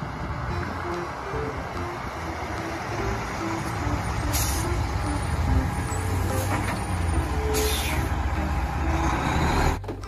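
Tank truck in a street or toy-vehicle setting, a steady engine rumble with brief hissing bursts like air brakes, moderately loud and continuous with no talk.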